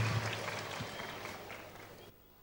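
An audience at a cultural evening for Pinarayi Vijayan's 2016 election campaign in Kerala claps in a sustained burst of applause that gradually thins and drops away near the end.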